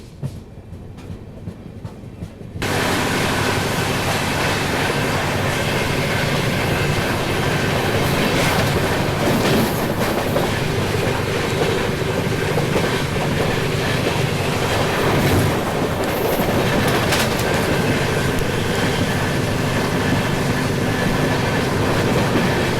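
Swarna Jayanti Express train running on the third line in Jharkhand, a quiet start giving way abruptly to a loud, steady rumble of wheels and rattling carriages that continues unbroken.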